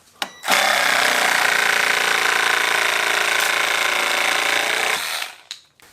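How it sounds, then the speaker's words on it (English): A full-size Milwaukee reciprocating saw runs with a 14-tooth construction rough-out blade on a short stroke, giving a loud, steady buzzing drone for about four and a half seconds that starts and stops abruptly, with no talking. "This is a 14 tooth Sawzall blade, more of a construction rough out blade, much smaller teeth, and see if that short stroke will help."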